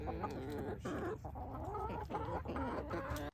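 Several chickens cluck and murmur continuously, close by, with overlapping calls and no pauses.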